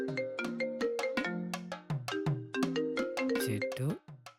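A phone ringtone plays a repeating electronic melody, close and clear, cycling through several bars as the call goes unanswered.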